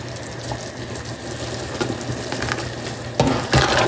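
Khmer beef and pork ribs soup with fish sauce bubbling in a pot, a steady close simmer with light clinks and a louder splashing scoop near the end, no voices.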